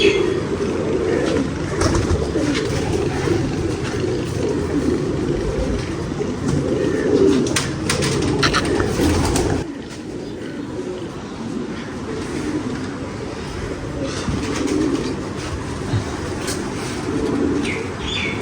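Racing pigeons cooing in a rooftop loft, low soft coos repeating over a steady background rumble like a passing train, with no talk.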